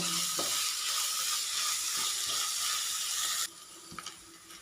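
Sliced onions for a chicken roast sauté in a pan with a loud, dense, close sizzle that suddenly drops to a quieter crackle near the end, broken by a few stirring knocks.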